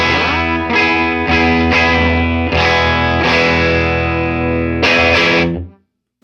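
Electric guitar played loud through a 1963 Fender Deluxe amp fitted with a Weber speaker, a run of sustained distorted chords re-struck several times and left ringing before cutting off.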